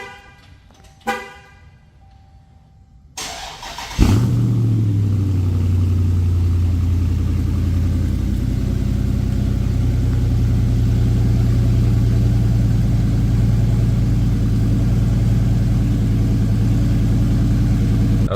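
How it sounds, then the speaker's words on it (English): Dodge Charger R/T Scat Pack Widebody V8 cold start: a short chirp and starter crank, then the engine catches with a loud roar and settles into a steady, loud, rumbling idle that lasts for the rest of the clip. "Cold start."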